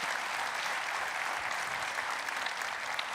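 A church congregation applauds during a Portuguese-language service, a sustained dense wash of clapping from many hands, even and fairly distant, with no voices over it.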